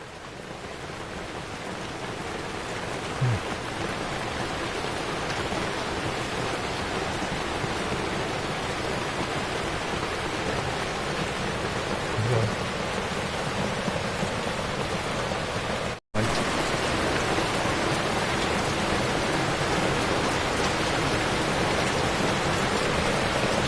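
Rain falling on a hut, a steady dense hiss of downpour that holds constant and loud for the whole stretch with one brief cut, no voices.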